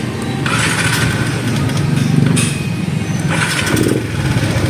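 A Yamaha X1R Limited Edition motorcycle with a hydraulic clutch and stock pipe starts up, cranking and then catching into a loud, steady engine rumble with surging bursts of revs.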